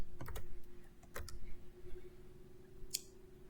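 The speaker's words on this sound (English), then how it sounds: "So backspace on all your capital letters and make them lowercase" Computer keyboard typing in a quiet room, a few soft key clicks in quick clusters followed by scattered single taps, close and faint, with no talking.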